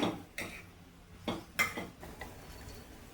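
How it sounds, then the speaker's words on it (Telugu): A utensil scrapes and clinks against a cooking pan while chow chow curry is stirred. A few soft, irregular knocks and scrapes sound close but quiet. "ఒకసారి ఇట్లా మిక్స్ చేసుకుందాం"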